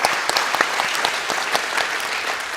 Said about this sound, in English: Dr. Corona, let's give her an applause also, please, all right?